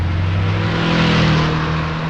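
A motorbike engine drones loudly and steadily, its pitch rising as it revs and pulls away, filling the whole moment with continuous engine noise and no talking.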